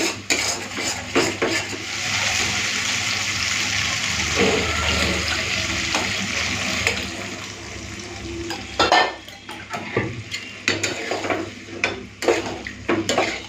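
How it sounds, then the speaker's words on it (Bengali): Boiled kabuli chickpeas being added and stirred into a fried tomato spice masala in a pan, with clattering utensil scrapes and a steady sizzle that breaks into sharper knocks and stirring toward the end. "চলুন এরপরে সেদ্ধ করার কাবলি চানাটা দিয়ে দিই"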